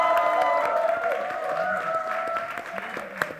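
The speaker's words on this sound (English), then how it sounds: "A huge round of applause for them." Sustained audience applause with crowd noise fills a trailer launch event for the film Silence 2, steady and fairly loud throughout with a brief sharp clap near the end.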